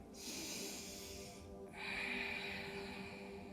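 Yoga breathing during a floor practice: two long, steady breaths, each audible as a soft airy rush lasting over a second, with a brief pause between them. Both are close and moderately loud, with no talk.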